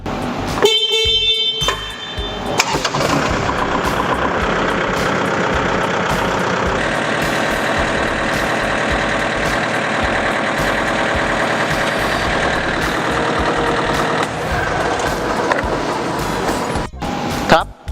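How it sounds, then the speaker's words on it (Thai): A farm tractor engine starts and then idles steadily while reversing in its slowest gear, a loud, continuous mechanical rumble close by, with a sharper burst near the start and a clunk at the end. "สตาร์ทเครื่องยนต์นะครับ เสร็จแล้วทำการถอยเข้ามา นะครับ"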